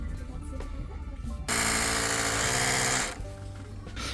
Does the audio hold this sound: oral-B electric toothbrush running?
yes